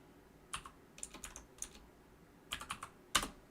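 Keys on a computer keyboard are pressed in short irregular bursts of soft clicks, close and fairly quiet, with one louder final keystroke.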